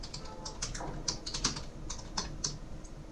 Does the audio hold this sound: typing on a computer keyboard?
yes